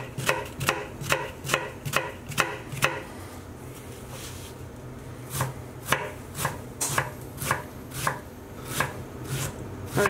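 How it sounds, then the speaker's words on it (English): A knife finely chops a brown onion on a cutting board, striking in quick, even bursts of crisp, close thuds that stop for a moment and then start again. "I'm just going to get 1 brown onion. And all we want to do is just chop this up finely."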